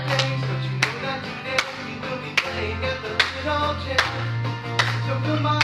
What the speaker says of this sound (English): Okay, let's walk and clap.